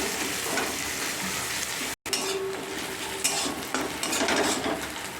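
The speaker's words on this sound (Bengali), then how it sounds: "পেঁয়াজটা আমার ভাজা হয়ে গেছে।" Onions frying golden in a pan, stirred steadily with a utensil, give a continuous close sizzle with scraping and clinks, broken by one brief silence near the start.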